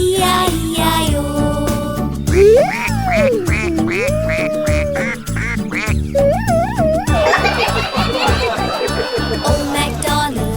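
The children's song Old MacDonald Had a Farm with music and singing, where repeated quacking duck sounds, likely voiced in imitation, come in rhythmic bursts over the tune.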